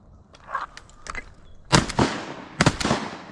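Sharp shotgun blasts while duck hunting on a small creek, two loud close reports about a second apart after quieter shuffling and faint calls, with a third crack trailing off near the end.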